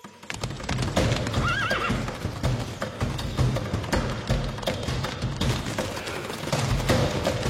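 Horses gallop with rapid, thudding hoofbeats close by in a French-dubbed cartoon, and one horse gives a clear whinny early on.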